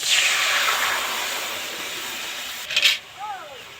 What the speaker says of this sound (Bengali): কড়াই জল দিয়ে দেব।